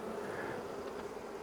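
Honey bees buzz inside an open hive, a dense, steady, close hum of many wings with no break.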